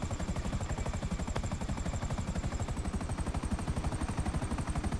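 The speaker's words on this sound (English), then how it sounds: "I want to ride with you and refight those helicopters." A helicopter in GTA 5 thumps with rapid, evenly spaced rotor beats over a steady engine whine, close and constant throughout with no talk.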